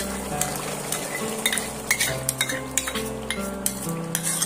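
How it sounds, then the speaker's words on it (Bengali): A metal spatula scrapes and clinks against the pan as chicken and beaten yogurt are stirred together, rhythmic knocks over a low sizzle, close and without talk. "মাংসের মধ্যে দিয়ে আমি খুন্তি দিয়ে এইভাবে একটু নেড়ে নেব, যাতে মাংসের মধ্যে ঢুকে যেতে পারে।"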